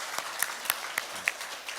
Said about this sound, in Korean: 우리 그냥 감사의 박수로 축복하면서